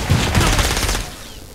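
Rapid gunfire crackles in the video game Saints Row: Gat Out of Hell, a loud dense burst of shots that tapers off over about a second and a half.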